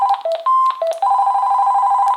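An AT&T CL82301 cordless phone handset rings close and loud, a run of short warbling electronic beeps that settles into a sustained trilling tone.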